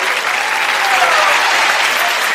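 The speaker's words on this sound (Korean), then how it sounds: "올라갈 때 박수!" Children's audience clapping together at a daycare puppet show, a dense, steady burst of applause held for a couple of seconds with a faint voice over it.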